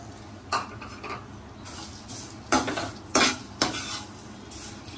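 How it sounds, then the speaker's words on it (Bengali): Vermicelli fries in ghee in a frying pan over a low flame, a soft steady sizzle broken by several louder scraping stirs of a utensil against the pan. "এবার লোয়ে রেখেই এই সেমাইটা আমি ভেজে নেব"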